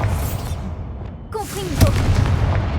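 Bombarda blasting spell detonating in the video game Hogwarts Legacy, a loud booming burst with a whooshing rush and rumbling tail, close and heavy, with no voice over it.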